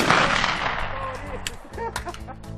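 28-gauge shotgun fired at birds during an upland hunt, one sharp close blast at the start that decays into a rumbling echo, followed by faint clatter and outdoor noise.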